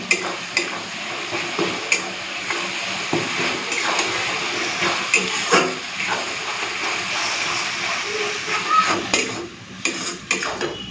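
Fish bone curry (kanta chorchori) fries in a pan with a wet sizzle as it is stirred and turned, with repeated utensil scrapes and clinks against the pan throughout.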